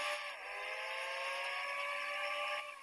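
A car engine in the mobile game Car Parking hums with a steady tonal whine that rises slightly, close and even for a few seconds, with no talk over it.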